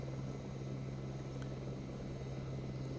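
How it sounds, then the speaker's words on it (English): A ranger helicopter in the video game Jurassic Park: Operation Genesis gives off a steady low rotor drone with a constant engine hum, even and unbroken throughout, with no speech over it. "Alright, we have just taken control of the helicopter."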